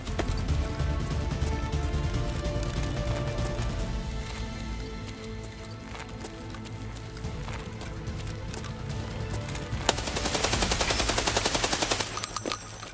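Automatic gunfire in the game Escape from Tarkov, exchanged across a sky bridge. It rattles faintly and at a distance under steady footsteps and ambient noise, then a harsher, rapid burst comes near the end.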